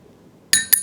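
A metal teaspoon clinks twice against a paint container as chalky furniture paint is scooped. The two bright, close taps come quickly one after the other, with quiet before them.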